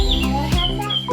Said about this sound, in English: makes just this beautiful bird sound along with bubbles that come out once you have that all attached